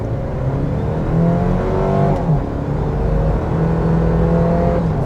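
A 2025 Toyota 4Runner TRD Off Road with the iForce Max powertrain accelerates hard, its engine note climbing steadily in pitch with a brief shift dip partway through, loud and continuous inside the cabin with no talk.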